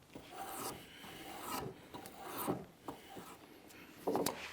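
A draw knife peels bark from a cedar log in a series of faint, irregular scraping and rasping strokes, each pull a short rough rub, heard close and alone.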